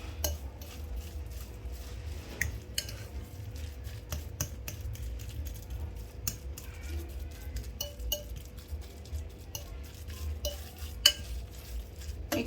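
Meatball paste with garlic is mixed thoroughly in a bowl, giving soft, steady squelching and stirring with irregular light clinks of utensil against the bowl, close and alone.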